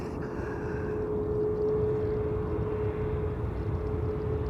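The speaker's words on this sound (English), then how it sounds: "A321neo KLM flight 1402 returning from Paris." A KLM Airbus A321neo arriving at Amsterdam Schiphol airport, a steady distant jet roar with a constant droning tone, holding even loudness throughout.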